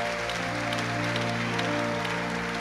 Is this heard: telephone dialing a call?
no